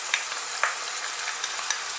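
Steady sizzling of onions frying in a hot pan with a few soft stirring taps, for a paneer masala; no voices.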